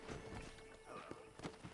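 Horse hooves clip-clop at a walk in the Western video game Red Dead Redemption, a quick run of soft, close hoofbeats over a faint game background.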